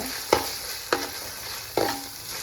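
Meal maker, onions and green chillies frying in a pan while being stirred, three sharp spoon scrapes and clacks against the pan spaced roughly half a second apart over a soft steady sizzle, close and without talking.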